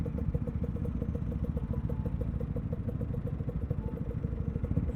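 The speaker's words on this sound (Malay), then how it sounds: "Sedap punya enjin dia." A Lambretta scooter engine runs steadily at idle nearby, with a fast, even two-stroke putter and a metallic clatter throughout.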